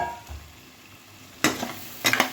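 Fried potatoes stirred into a nearly cooked masala in a pan for a tomato paneer dish, with a quiet lead-in before two bursts of scraping, sizzling stirring.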